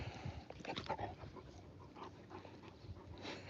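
A dog panting hard with small whimpers during a game of tug of war, quick rhythmic breaths close to the microphone at low volume, with no voices.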